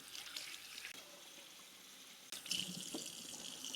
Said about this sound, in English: We're gonna start some soak water for our utensils so they can soak.